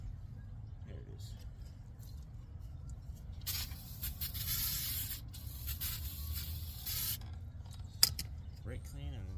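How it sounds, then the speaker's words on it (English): Brake cleaner hisses in bursts of spray onto the brakes of a 2012 Honda Accord during a pad and rotor job, a few seconds of close aerosol spray over faint workshop background, with a sharp clink near the end. "Brake clean and then just wipe her up."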